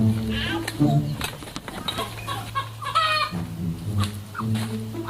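Several chickens cluck and squawk nearby in a continuous, overlapping chorus, with people talking in the background.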